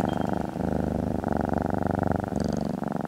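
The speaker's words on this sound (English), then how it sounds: "So I have different ways of creating purr kind of sounds." A low, continuous purring rumble played on an instrument, steady and loud with a regular pulsing texture, briefly pausing twice before resuming.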